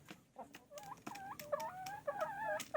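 An old hen cackling after laying an egg, a run of repeated nasal clucks rising into quick warbling calls, fairly close and moderately loud over faint background noise.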